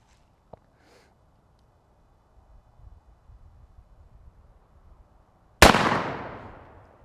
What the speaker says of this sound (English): When you cock the gun, that percussion cap has fired.